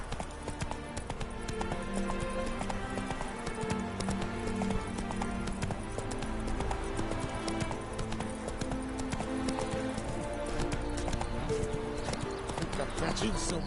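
Geralt's horse Roach in The Witcher 3: Heart of Stone, with steady rhythmic clip-clop hoofbeats on the ground throughout, heard under game music and a voice speaking.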